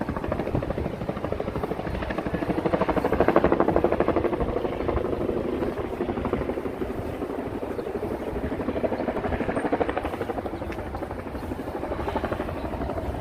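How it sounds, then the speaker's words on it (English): A tour helicopter flies over the East River in New York, its steady rotor chop droning at mid distance for the whole stretch, swelling slightly partway through and again later, with faint city ambience beneath. "That one could be of those tour helicopters."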